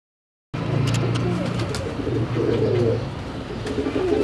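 Daku pigeons cooing in a loft in Kasur, low repeated coos rising and falling steadily at close range after a brief silence, with scattered sharper chirps above.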